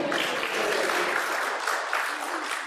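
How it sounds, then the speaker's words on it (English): Audience at a poetry discussion event breaks into steady applause, a dense wash of clapping from a room of people that holds through and fades slightly at the end. "You can clap for that."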